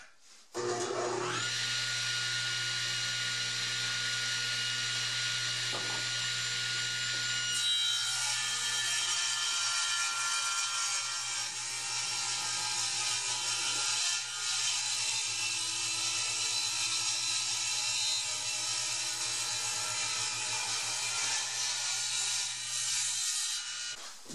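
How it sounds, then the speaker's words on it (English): An underpowered saw labours steadily through thick maple during a workbench build, a loud continuous grinding whine with a strained motor hum underneath, shifting slightly in pitch as the blade bites, with no talking. "Underpowered saw going through thick maple."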